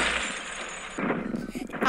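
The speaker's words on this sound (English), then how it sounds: "Did that just play the sound effect of a crashing car?" A short crashing sound effect in a Deadpool video game, with glassy shattering and clinking debris rattling close, then scattered impacts trailing off.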